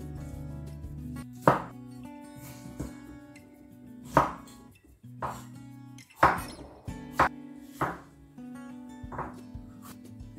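A knife chops vegetables into pieces on a cutting board for a layered vegetarian cheese omelette. About eight irregular, crisp chops ring out close by, while a dog whines steadily in the background.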